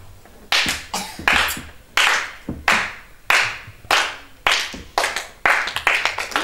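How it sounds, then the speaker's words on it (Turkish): An audience at a children's theatre show claps in unison, sharp loud claps landing in a steady rhythm about every half second to second. "Niye alkışlıyorsunuz şimdi?"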